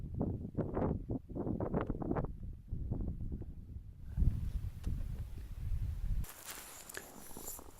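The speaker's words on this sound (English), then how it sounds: "Wind's starting to pick up." Wind gusting across Portage Glacier in Alaska, rumbling and buffeting the microphone with crunching footsteps on ice, settling into a steadier roar and then a brighter hiss.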